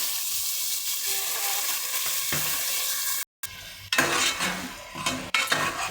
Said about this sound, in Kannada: ಆಮೇಲೆ ಇವಾಗ ಸ್ವಲ್ಪ ಕಾಳುಗಳೆಲ್ಲ ಫ್ರೈ ಮಾಡ್ಕೊಳ್ಳೋಣ.